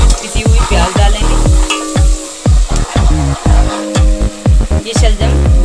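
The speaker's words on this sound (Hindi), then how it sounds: "अब पिसी हुई प्याज डालेंगे।" Ground onion and garlic-ginger paste frying in a pan with turmeric, loud close sizzling broken by rhythmic scraping strokes of a spoon against the pan, steady throughout with no voices.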